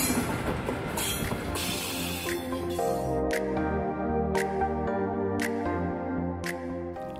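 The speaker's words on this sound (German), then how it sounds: "Nach Aufnahme der Fahrgäste aus den Anschlusszügen verlässt unser RE19 den Sonneberger Hauptbahnhof zur Minute 6." The RE 19 regional train departs Sonneberg main station, with steady rolling rumble and rhythmic clickety-clack over rail joints, evenly spaced sharp clicks recurring, heard from on board.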